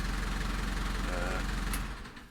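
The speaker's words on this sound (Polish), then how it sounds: "Silnik 4 cylindry, moc coś koło 60 koni, nie? Przedni napęd, bardzo fajny, zgrabny, wąski traktorek." A four-cylinder, roughly 60 hp front-drive small tractor engine idles with a steady low rhythmic throb, close by, before fading slightly at the end.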